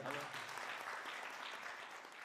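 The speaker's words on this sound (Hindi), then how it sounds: "तो एक बार इनके लिए जोरदार ताली हो जाए." Audience applause filling a large hall at a devotional Sai katha gathering, a steady dense wash of clapping that holds evenly throughout.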